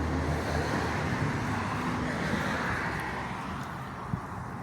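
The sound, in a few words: 1971 car engine running with stock exhaust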